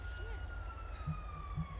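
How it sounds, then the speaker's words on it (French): Emergency siren in the GTA 5 game, a steady high tone with a gliding wail, heard continuously over low rumbling traffic and engine noise, with short horn-like blips near the end. "L'ambulance arrive avec les psychologues."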